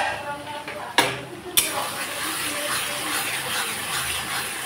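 Spice paste with tomato and onion frying in a pan, a steady hiss and sizzle with two sharp clanks of utensil or lid near the start.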